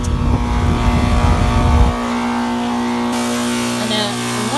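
A Rheem air conditioner fan runs loudly at about 825 RPM, a steady close whirring hum with a strong tonal drone and a rougher rush at the start, continuous for the whole stretch.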